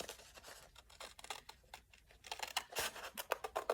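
Scissors cut paper for a handmade journal, making repeated close, crisp snipping and rustling strokes in an uneven rhythm.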